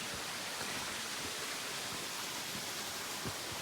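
A waterfall on a mountain loop trail pours in a steady, even rush of falling water, constant broadband hiss with no voices.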